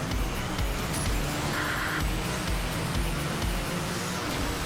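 Fire truck engine in the racing game Asphalt Xtreme, a steady, loud low rumble with rhythmic pulsing throughout and no talking.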